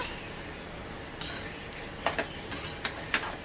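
Ingredients mixed by hand in a pan over a high gas flame in a home kitchen, giving a handful of soft scrapes and light clinks spaced irregularly over a quiet background.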